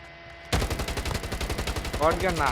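Rapid shotgun fire in Call of Duty, a steady series of loud blasts starting abruptly and continuing for about two seconds over ongoing game noise.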